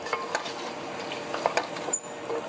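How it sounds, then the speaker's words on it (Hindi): Beef frying bhuna-style with tikka masala in a pan, a soft continuous sizzle with scattered light scrapes and taps of a spoon against the pan, close by, fairly quiet and with no speech. "अब इसकी हम बुनाई कर लेंगे"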